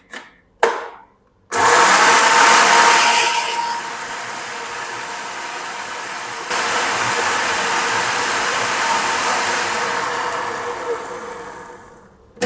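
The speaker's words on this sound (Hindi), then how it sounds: "ऊपर से हम इसको बंद कर देंगे और इसको दरदरा सा हम पीस लेंगे" An electric grinder runs loud and steady for about eleven seconds, coarsely grinding spices for a homemade fish fry masala, after a couple of short bursts at the start; the whirring dips slightly partway through and carries no talking.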